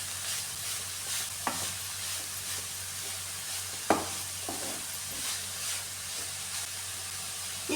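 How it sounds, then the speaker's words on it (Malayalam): Grated cabbage for Kerala thoran is stirred in a hot pan under a steady, soft sizzle, with occasional spatula scrapes and taps close by. "ഇതെല്ലാം കൂടെ നന്നായിട്ടൊന്ന് മിക്സ് ചെയ്ത് കൊടുക്കാം"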